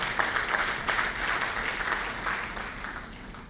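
A crowd at a lawyers' congress opening ceremony applauds with brisk, continuous clapping that gradually tapers off toward the end.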